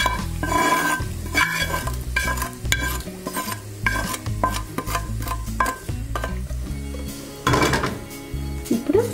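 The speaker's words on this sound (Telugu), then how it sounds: "ఇప్పుడు ఈ తాలింపు మొత్తము కూడా ఈ పచ్చళ్ళలో వేసేసుకుందాం." Hot tempering being stirred into tomato pickle, a steady scrape and clatter of a spoon against a pot with a faint frying sizzle, close and continuous, without speech.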